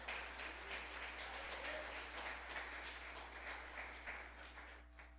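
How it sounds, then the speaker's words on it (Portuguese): A church congregation at an evening worship service claps, a faint, distant wash of applause over a constant low hum that thins out toward the end. "Você pode aplaudir ao Senhor por isso?"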